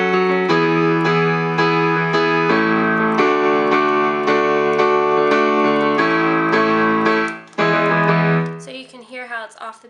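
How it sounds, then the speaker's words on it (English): Piano playing syncopated chord hits off the beat, sustained chords restruck in a regular pattern, loud and clear, ending with a brief fade into softer noise. "just understanding that the chord hits of the piano are off the beat."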